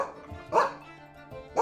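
In the video game Legacy of Hestia, a dog lets out a sharp bark, then a second one starts at the very end, both set against quiet background music.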